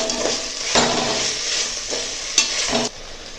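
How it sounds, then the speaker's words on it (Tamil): Onions sautéed with mint and coriander leaves are stirred in a hot pan for a biryani, a steady sizzle broken by several scraping stirs of the spoon, close and moderately loud, with no talk. "இப்போ இதை இது நல்லா வதங்குற அளவுக்கு கிண்டி விட்டுருங்க"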